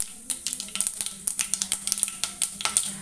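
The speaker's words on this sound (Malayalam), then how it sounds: "ചൂടായ വെളിച്ചെണ്ണയിലേക്ക് നമുക്ക് കുറച്ച് കടുക് ഇട്ട് കൊടുക്കാം" Mustard seeds crackling in hot coconut oil, a dense run of sharp popping and spitting bursts at a rapid irregular rhythm, close and steady with no talk.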